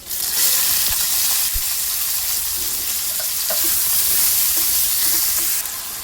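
Steady, loud sizzling of guar beans and potatoes frying in a pan as tomatoes go in, with light stirring clicks and scrapes throughout and no talk.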